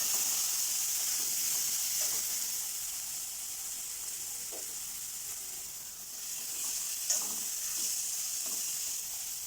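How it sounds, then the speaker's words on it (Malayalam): Chopped onions sauté in a pan for a mulberry leaf thoran, a constant bright sizzling hiss close by, with a few faint stirring scrapes and no talk. "ഈ സവാള ഒന്ന് വഴണ്ട് വരുമ്പോൾ നമുക്കതിലേക്ക് ഇല ചേർത്ത് കൊടുക്കാം."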